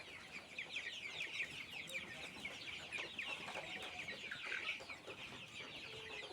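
Chickens on a poultry farm clucking steadily in a dense, continuous flock chatter, fairly distant and moderately loud, with no clear voices over it.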